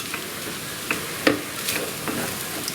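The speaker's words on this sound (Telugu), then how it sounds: "మరొక్కసారి కలపాలి" Egg fried rice stirred in a hot pan with lemon juice squeezed over it: a soft, steady sizzle with occasional scraping and clicking strokes of the spatula, close by and heard without talking.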